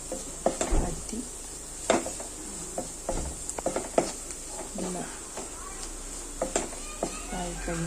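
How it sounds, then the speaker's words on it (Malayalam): Masala and onions sautéing in a pan, with a soft steady sizzle under repeated spatula scrapes and taps against the metal, and someone speaking between the strokes. "ബാക്കിയുള്ള മസാല ഇതിനകത്തോട്ട് ഇട്ട് ഇതിൻ്റെ പച്ചമണം മാറുന്നത് നല്ലതുപോലെ ഒന്ന് വഴറ്റണം."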